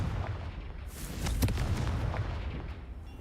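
A Confringo fire blast spell in Hogwarts Legacy bursts with a single muffled boom and fiery whoosh midway, set against steady low rumble, with no talk.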